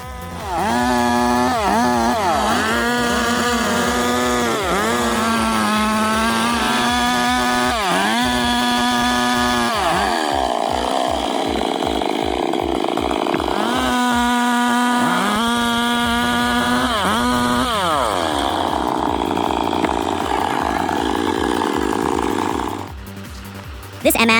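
A chainsaw engine revs loudly and repeatedly as it cuts through wood, rising and falling in pitch with each pass, close and dominant throughout, with a brief drop near the end.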